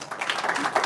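Brief applause from a conference audience welcoming a WordPress speaker to the stage, a soft wash of scattered clapping heard from the room.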